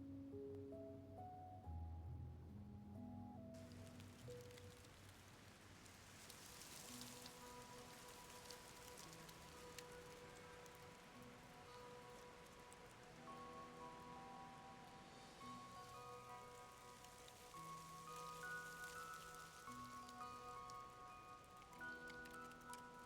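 Rain falling in the video game Love and Deepspace, a steady patter on surfaces holding an even level throughout, with sustained musical tones over it.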